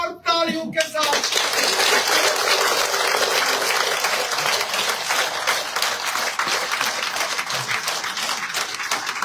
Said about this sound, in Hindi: चौधरी गनी साहब का जोरदार तालियों के साथ